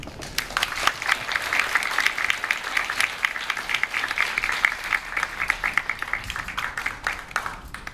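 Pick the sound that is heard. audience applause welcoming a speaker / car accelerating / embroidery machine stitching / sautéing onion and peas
audience applause welcoming a speaker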